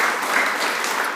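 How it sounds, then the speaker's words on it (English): Brief burst of steady applause from an audience at a primary school end-of-year presentation assembly, dense even clapping heard alone. "We'll give them a clap."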